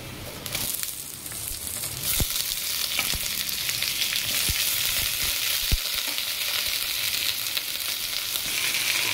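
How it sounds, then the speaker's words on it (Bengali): Onion and boiled potato frying in a pan, a loud, steady close sizzle with a few sharp clicks of a utensil against the pan, no voices. "দেখুন বন্ধুরা, আমরা লাল লাল করে পেঁয়াজটা ভেজে নিয়েছি।"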